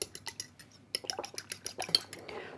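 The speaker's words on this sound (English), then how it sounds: "Take 1 egg out and just pop it into a bowl. I'm going to give it a really good whisk." An egg being whisked in a bowl while cooking, heard as a quick run of rhythmic tapping and clinking strokes against the bowl, fairly close and moderately quiet, with no talking.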